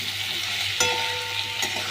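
Potatoes and chopped tomatoes fry in oil in a pan with a steady broadband sizzle, broken by two sharp clatters of a spoon stirring through them, close and with no talking.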